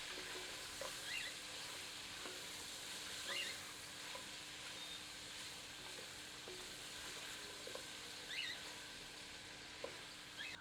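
Mutton browning with ginger-garlic paste in a pan, a soft steady sizzle with occasional stirring scrapes, fairly quiet and continuous with no talking.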